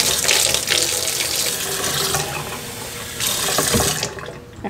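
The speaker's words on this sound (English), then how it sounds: "Add some warm water just so I can mix it." Warm water runs steadily from a kitchen tap into a bowl of flour mixture, a broad hissing splash that varies in intensity and briefly eases before stopping near the end.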